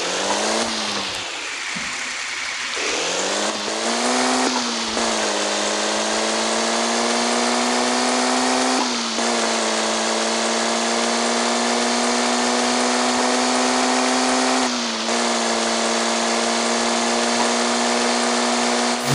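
A Tofaş Şahin car engine in a truck simulator video game revs loudly and continuously, its pitch climbing and then dropping sharply several times as the gears shift, alone with no talking.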